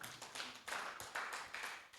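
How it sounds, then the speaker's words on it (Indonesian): A church congregation at an online gospel service clapping for the Lord, heard as a quiet, steady rhythm of claps at about two per second. "Beri tepuk tangan untuk Tuhan kita."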